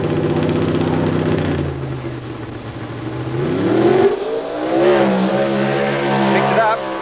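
A Pro Stock drag racing car at the 1990 Winternationals at Willowbank, Australia, roars as it accelerates down the track, its engine pitch climbing in loud, steady sweeps with a commentator talking over it.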